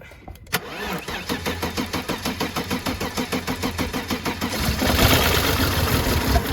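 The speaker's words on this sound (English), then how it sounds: "We're getting a bit of backfire through the airbox for some reason." An old farm car engine cranks with a rapid, even chugging of the starter for several seconds, then catches and roars into rougher, louder running, with backfiring through the airbox.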